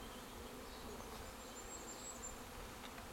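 Honeybees swarm over an opened hive with a constant, faint buzzing hum, close by and without pause, with no voices.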